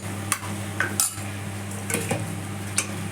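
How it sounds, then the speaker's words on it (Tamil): Mutton being sautéed and stirred in a pan with onions and tomatoes, a spoon scraping and clinking against the metal in a few sharp knocks over a steady low hum. "கறியை போட்டு நல்லா வதக்கி விட்டுட்டு"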